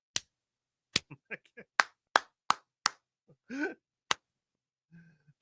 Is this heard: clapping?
yes